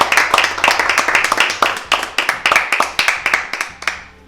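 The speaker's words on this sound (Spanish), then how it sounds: "Bueno, un aplauso." A small group claps at a champagne tasting of big-brand bottles, crisp hand claps close to the microphone in a quick uneven rhythm, thinning out toward the end.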